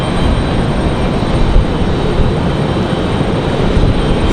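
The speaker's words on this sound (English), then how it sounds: "It's got the reversers open, but no major sound coming from the 777" Air France Boeing 777 landing with thrust reversers open at Raleigh-Durham: a dense, steady rumble of jet engine noise at high level for a few seconds, with no talk.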